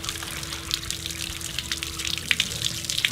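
Water drains out of a Suburban RV hot water heater in a steady, close gushing splash with small spatters, continuous and fairly loud over a faint hum.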